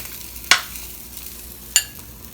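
Italian sausage links and meatballs browning in a pan as they are turned, giving a low steady sizzle with two sharp clinks or scrapes standing out, no talking.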